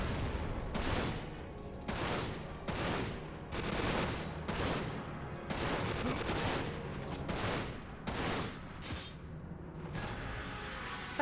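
Gunfire in the video game Dirge of Cerberus, a steady run of repeated shots and rattling bursts at a fairly even rhythm, with no pause for about eleven seconds.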